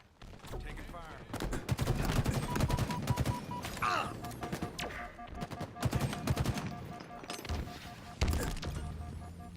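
Rapid bursts of automatic gunfire and single shots in a Halo multiplayer match, dense and loud, with a game announcer's voice and player chatter mixed in.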